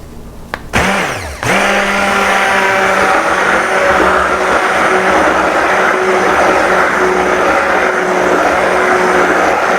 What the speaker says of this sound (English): Using the stick blender, then turn the mixer on.